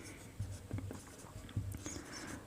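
Handwriting on paper during a class 12 maths lesson, with soft scratching pen strokes and light taps in short bursts at close range over quiet room noise.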